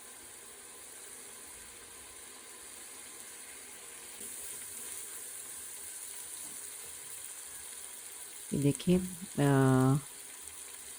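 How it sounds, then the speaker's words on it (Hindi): Beef karahi fries in a pan with a faint, steady sizzling hiss, and a voice speaks briefly near the end. "और अच्छे तरीके से फ्राई करेंगे इसे मज़ीद"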